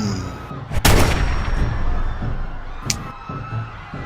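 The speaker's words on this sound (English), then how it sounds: "you hear a gunshot fly past, or the whizzing of a bullet fly past your head" Gunshot sound effect in a Fallout tabletop role-playing session, a single loud crack followed by a long noisy tail, with a brief thinner whizz like a bullet passing later on, heard alone with no voices.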